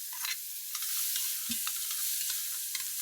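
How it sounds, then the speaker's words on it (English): Finely chopped onions sautéing in a pot, a steady soft sizzle with occasional light stirring clicks, close and quiet, with no talk. "I've got some onions just chopped up really fine, and we want to get those sauteed off until they're soft."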